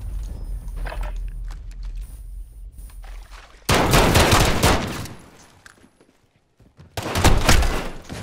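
Bursts of gunfire ring out in a video game gunfight, first a scattered run of shots, then two loud, dense volleys separated by a brief lull.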